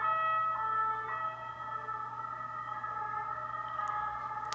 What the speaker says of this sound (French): j'espère que vous n'avez pas entendu l'ambulance